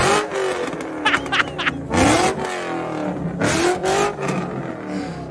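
A car called Helenor revs hard at a Cars and Coffee rev contest, repeated loud engine roars and bursts of acceleration with crowd noise, close and powerful.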